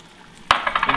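A beaten egg drops into a hot pan coated with butter, landing with a sudden wet splat halfway through, followed at once by a crackling, pulsing sizzle up close.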